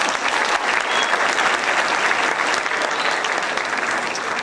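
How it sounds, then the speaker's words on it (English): A crowd at a school college assembly claps steadily and loudly, dense applause filling the whole stretch without pause. "Give him a round of applause."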